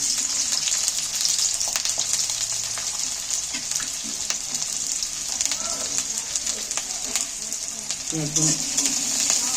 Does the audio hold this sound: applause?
no